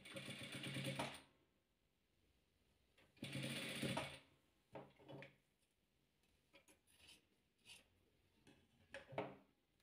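Sewing machine stitching fabric pieces for a patchwork quilt, running in two loud bursts of about a second each, with quieter handling clicks and ticks between them, close by.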